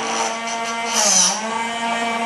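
Tool turning against a closed-end pen blank on a lathe, a steady close mechanical whir with a brief brighter cutting swell in the middle.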